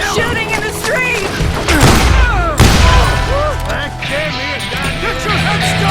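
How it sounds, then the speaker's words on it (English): Street shootout in the western shooter game Call of Juarez Gunslinger: loud, continuous gunfire with booming reports and whizzing bullets, mixed with shouting voices and dense, chaotic noise throughout. "They're shooting in the street!"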